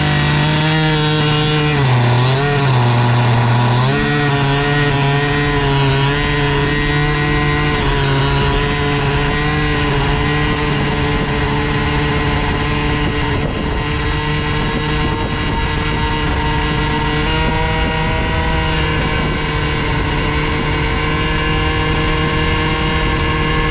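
An Airsal CPI 70 scooter engine revs and pulls away, its buzzing two-stroke note climbing and dipping in pitch through several throttle blips before holding a steady, loud drone close by for the rest of the run.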